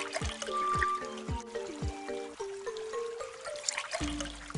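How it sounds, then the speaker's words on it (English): Water from an egg pours into a hole in a Dinosaur Train video game, heard as a run of short bubbly gurgling pours and trickles, one after another, clear and close, ending in a longer splashy fill. "That egg held the right amount of water to fill that hole."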